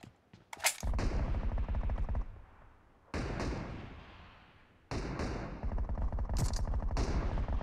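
Sustained automatic gunfire in a team-based shooter video game rattles in long loud bursts separated by brief pauses, close and dominant, with sharp higher shots cutting in between the bursts.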